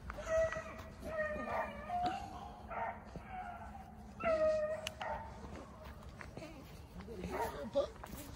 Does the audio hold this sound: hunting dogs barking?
yes